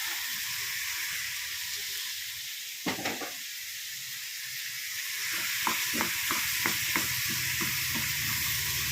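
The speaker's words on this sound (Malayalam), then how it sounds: "കൊച്ചുള്ളി ചേർത്ത് പന്നിയിറച്ചി ഒലത്തിയെടുക്കും" Pork frying in a pan with shallots and chili powder, a steady close sizzle and hiss throughout with a few brief clinks and stirring scrapes, no talk.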